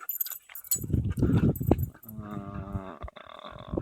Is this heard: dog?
yes